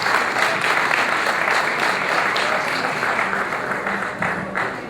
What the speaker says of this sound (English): A round of applause for the Italian teacher.